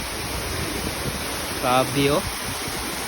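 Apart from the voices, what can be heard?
waterfall in a clean provincial river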